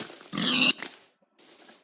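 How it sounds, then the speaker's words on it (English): Pig grunts in a Minecraft-style survival game, one loud close grunt burst followed after a short gap by a softer, lower snort. "Ooh, pig."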